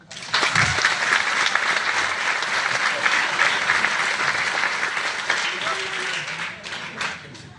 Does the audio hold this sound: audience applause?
yes